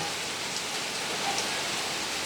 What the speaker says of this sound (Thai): เดี๋ยวฝนตกวะ